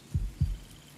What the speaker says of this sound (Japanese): 鼓動の音が強くなってきた。